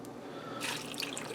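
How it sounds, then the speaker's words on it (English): Canned green beans and their juice tip from a 14.5-ounce can into a Ninja Foodi pot, a brief wet pour that swells into splashing and dribbling partway through, close and fairly quiet. "I'm dumping them in, juice and all."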